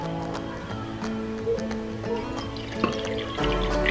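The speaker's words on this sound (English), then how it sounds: "I will pour the water behind the coin" Water is poured into a bowl over a coin in a small tabletop experiment, giving soft drips and trickles close by, beneath steady tonal music.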